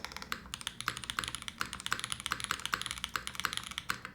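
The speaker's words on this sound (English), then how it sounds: "These diamond switches have been like, man, I have been loving typing on this" Steady, fast typing on a Neo65 mechanical keyboard fitted with diamond switches, crisp clacking keystrokes in an even rhythm, close up and alone with no talk.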